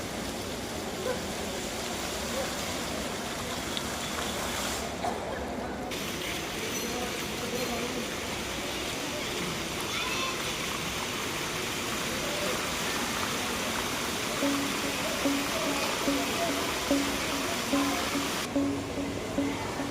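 An indoor water fountain with lighting in a busy airport hall gives a steady, even rush of falling water. It continues for the whole stretch at moderate level, with a faint murmur of people in the background.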